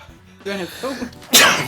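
A single sharp sneeze bursts out at the end, right after a few softly spoken words.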